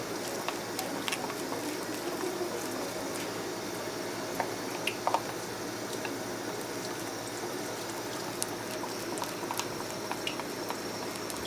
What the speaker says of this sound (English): I just start really kind of pushing that alginate, all the bubbles, into the mix there.